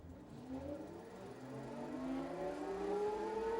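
An electric motor on a budget e-mountain bike, spinning up on a dyno test rig, whines with a steadily rising pitch as it gains speed and grows gradually louder, with no talking.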